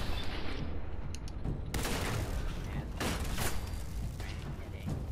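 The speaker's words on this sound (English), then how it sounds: "Where is this guy shooting me from?" Dense, continuous gunfire from an enemy in the video game Fallout 4 Automatron, with repeated sharp bursts over a steady rumbling battle bed, loud and close throughout.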